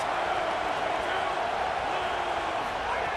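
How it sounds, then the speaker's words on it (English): Steady, dense stadium crowd roar in an online head-to-head American football video game, a loud continuous wash of noise that holds at the same level throughout without a break. "Listen to this crowd just shaking the girders of this place, trying to help their defense."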